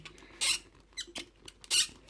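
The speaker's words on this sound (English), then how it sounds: "It has the ball joint here at the base, which on mine is very squeaky." Squeaky ball joint at the base of the neck on a Jurassic World Legacy Collection Extreme Chompin' Spinosaurus action figure, giving several sharp plastic squeaks in irregular bursts, close and fairly quiet with no talking.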